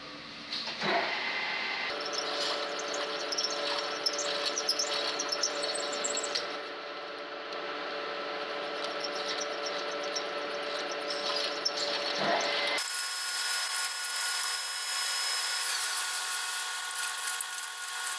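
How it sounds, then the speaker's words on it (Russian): A small high-pitched drill whines steadily while boring a hole for a thread insert in a Ford 1.6 cylinder block, its tone jumping higher partway through and continuing as a sharp, sustained whir. "берем сверло под пружинку и делаем проход"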